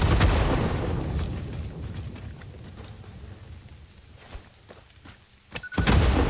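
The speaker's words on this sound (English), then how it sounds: "The only thing with these bombs is they're quite slow to throw" Bombs thrown in the game Satisfactory, a few muffled thunks and soft booms over a rumbling game backdrop, with a sharp pop near the end followed by a swelling low rumble.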